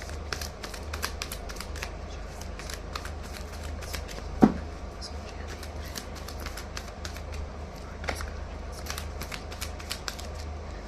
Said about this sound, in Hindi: तो मैं 3 कार्ड्स पुल आउट करूंगी